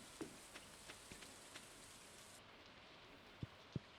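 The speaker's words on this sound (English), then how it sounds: "Like the muffled rain noise also," Muffled rain from the video game Stardew Valley forms a faint, steady hiss with a few soft scattered taps and two sharper knocks near the end.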